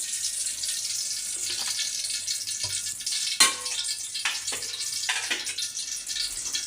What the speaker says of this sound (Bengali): তো এখন আলু ঘাটিটা রান্না করার জন্য দিয়ে দিচ্ছি সয়াবিন তেল।